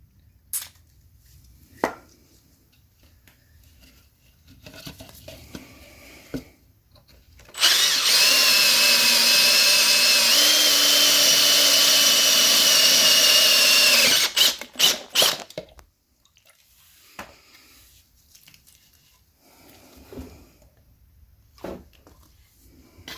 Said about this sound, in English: We have our hole drilled through the plug.